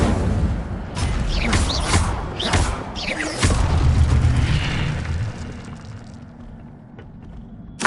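Fire spell blasts from Incendio in Hogwarts Legacy: a rapid series of bursting, whooshing pops and booms over a rumbling base, fading toward the end before a final sharp hit.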